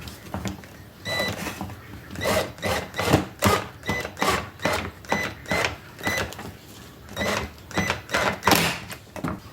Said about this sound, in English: we're just going to use wood screws again and a washer to kind of clamp it on.